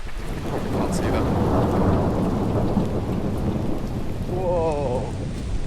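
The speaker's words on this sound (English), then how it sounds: "it's just thunder and lightning" Deep rolling thunder rumbling loudly over steady rain, close and sustained, with a faint warbling tone near the end.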